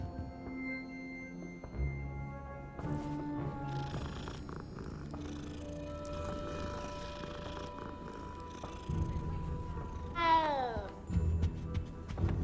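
Cat in a Hogwarts video game, a purring, meowing cat heard amid layered game music and sound effects, with a sweeping rising chime near the end.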